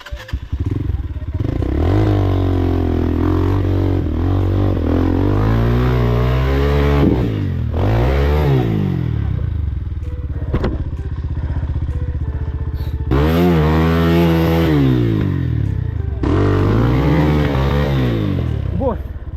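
An MMC MX250 trail motorcycle revs hard on a mountain dirt trail, its loud engine climbing and falling in repeated surges close by, with short lulls between bursts.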